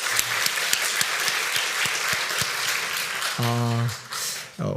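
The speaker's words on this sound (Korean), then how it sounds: "하나님께 영광의 박수를 드리겠습니다." Church congregation at a Sunday service claps steadily with distinct sharp claps audible, then a sustained keyboard chord enters near the end as the applause fades.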